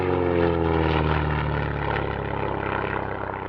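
An SF.260 propeller plane with a 260 horsepower Lycoming engine drones loudly and steadily at an airshow, a close, sustained engine hum with strong tonal harmonics and no talk.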